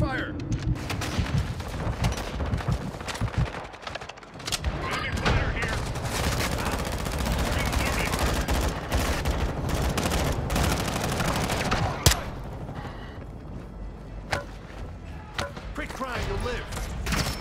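Dense automatic and rapid gunfire from a Modern Warfare III Warzone match (Shadow Company teaser event), near and loud, with sharp single shots and bursts running nearly continuously under occasional voices.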